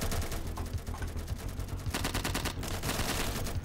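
An RPG fires in the military shooter game Insurgency, heard as loud, dense bursts of gunfire and blasts that run almost continuously and crackle throughout.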